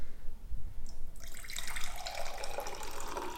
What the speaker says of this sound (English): if I grab a cup, pour it in